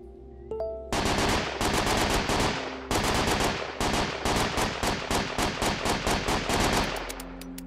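Automatic gunfire in the zombie survival game Last Whisper rattles out in long rapid bursts of sharp, loud shots with brief pauses between them, and no voices are heard.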